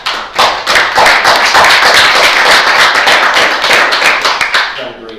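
A board of commissioners meeting breaks into a round of applause for a staff member, a full, dense burst of many hands clapping that fades slightly toward the end.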